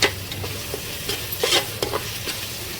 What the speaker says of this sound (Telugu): బాగా పచ్చివాసన పోయే వరకు బాగా వేగాలి